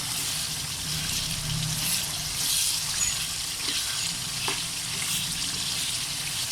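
Chicken karahi masala with tomatoes fries in a pan, a steady close crackling sizzle with faint stirring and a couple of light knocks, and no talking.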